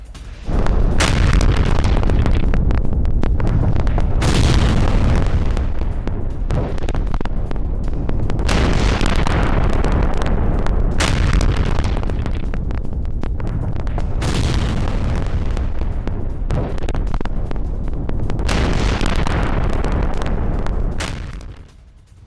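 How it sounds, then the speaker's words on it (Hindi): Deep, loud booms from Iranian missile strikes in Tel Aviv roll continuously with heavy rumbling blasts and crackling debris, several explosions overlapping over twenty seconds. "ईरानी मिसाइलों से जोरदार धमाका हुआ"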